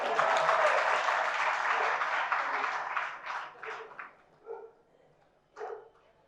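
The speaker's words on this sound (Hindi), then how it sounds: "तालियां बजा दी बेटा, ध्यान रखना तुम।" Audience applause at a Jain religious discourse, Mangal Pravachan in Tikamgarh, a dense burst of clapping that fades after about four seconds, followed by a few scattered short claps.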